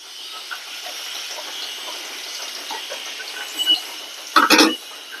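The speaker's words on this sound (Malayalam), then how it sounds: "വഴറ്റുന്നതിൻ്റെ ഒച്ചയൊക്കെ വരും കേട്ടോ" Garlic and dried red chillies sizzle in hot oil in a pan, a continuous close hiss with faint crackles, broken near the end by a few louder scraping stirs.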